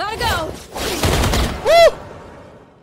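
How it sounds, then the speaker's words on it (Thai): A character slides and then fires a gun in a video game: a quick scraping swoosh followed by clustered shots and a rising, ringing effect, close and loud over game sounds. "ลองสไลด์แล้วยิงดู"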